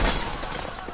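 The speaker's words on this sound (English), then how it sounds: "The glass doors of the ballroom shattered." The glass doors of a ballroom shatter in one sharp crash that bursts loudly at the start and quickly thins into scattered tinkling debris, all within under a second.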